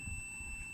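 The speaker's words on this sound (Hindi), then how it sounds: "कंटिन्यूटी बजर बज रही है, ये मीटर बजर बजा रहा है।" A multimeter's continuity buzzer sounds while a thermostat F2000 wiring setup is tested. It is a steady, high-pitched electronic tone that holds without a break for the whole moment, fairly faint, over a low background hum.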